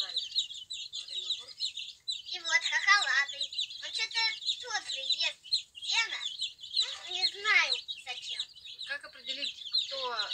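Young laying chickens clucking and peeping nonstop, a busy, overlapping chorus of high chirps and calls that stays close and fairly loud throughout.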